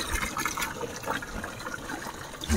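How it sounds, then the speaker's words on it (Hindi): Fresh water pouring steadily into a container for goats at a goat farm in Chhapi, Gujarat, a continuous close splashing gush with no voices over it. "ऐसा ताज़ा पानी भरा जाता है"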